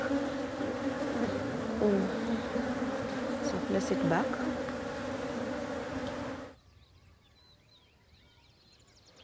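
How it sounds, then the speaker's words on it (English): A dense swarm of bees buzzing close by for several seconds, with a brief spoken remark over it, then the buzzing cuts to near silence. "you're going to first tame the bees"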